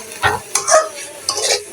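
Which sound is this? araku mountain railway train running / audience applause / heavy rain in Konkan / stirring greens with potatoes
stirring greens with potatoes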